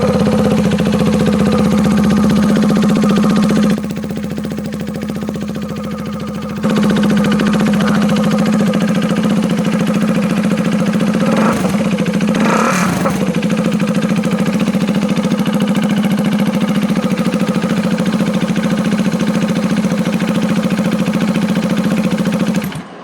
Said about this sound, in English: I love loud exhausts and loud motor sounds.